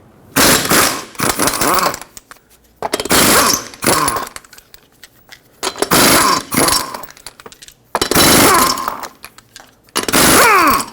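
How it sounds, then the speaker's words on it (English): An impact wrench with a 21mm socket zips lug nuts off a 2006-2010 Hyundai Sonata front wheel in loud, close bursts of rattling hammering, each lasting about a second and separated by short pauses, with no talking. "Use a 21mm socket, remove all 5 lug nuts, and then we can pull the wheel off."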